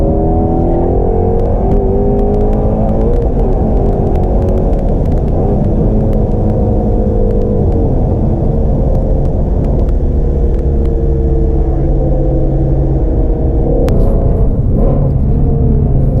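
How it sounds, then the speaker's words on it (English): Shelby GT350 V8 engine heard from inside the car on a road course, rising and falling revs with blips through downshifts, a loud, continuous droning rumble. "I rev match and downshift before I hit a corner"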